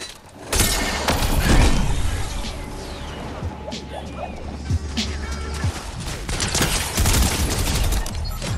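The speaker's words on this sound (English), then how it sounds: "What's that shooting at me?" Gunfire in a shooter video game comes as rapid bursts and scattered sharp cracks with crashing impacts, mixed with the player talking.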